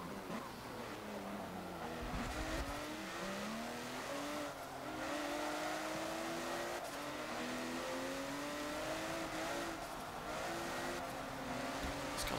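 Porsche 911 GT1 Strassenversion racing engine in Forza Motorsport 7, a loud steady howl that rises and falls through gear shifts over about twelve seconds of continuous track driving, with no talk.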